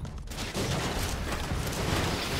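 Chain gun fire in the video game Broforce, a dense continuous rattling burst that kicks in after a brief lull and keeps going, fairly quiet in the mix.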